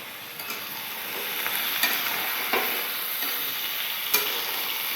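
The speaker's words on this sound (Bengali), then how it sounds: "পটলগুলো লাল লাল করে ভেজে নিতে হবে।" Pointed gourd pieces fry in hot oil with salt and turmeric, a steady close sizzle broken by occasional light spatula scrapes and taps against the pan, no voices.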